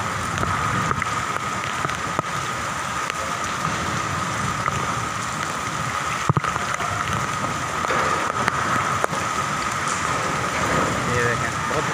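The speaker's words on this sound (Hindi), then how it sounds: "बहुत ज़बरदस्त बारिश हो रही है। अल्लाह की रहमत बरस रही है इस वक्त कराची में।" Heavy rain with strong wind pours steadily in Karachi with a rushing, wind-driven hiss, loud and constant, with occasional thumps and a voice faintly present underneath.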